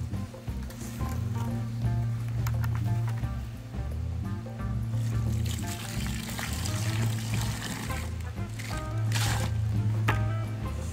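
Wet cement is churned with a stir stick in a hole for an in-ground flagpole mount, giving continuous squishing, sloshing scrapes close by with no talk.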